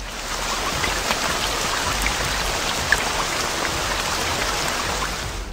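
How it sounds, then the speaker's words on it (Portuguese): Steady, dense rain falls at night in the wild, a loud continuous hiss of drops that stays even throughout with no voices. "Depois a chuva cai"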